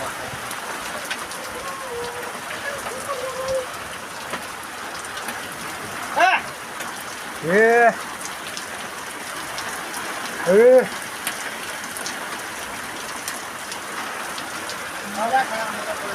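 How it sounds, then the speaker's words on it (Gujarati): Steady heavy hail and rain patter and hiss throughout in summer, with a few brief voices and calls breaking through now and then. "ગારાનો વરસાદ છે તમે જોઈ શકો છો આટલો વરસાદ પડે"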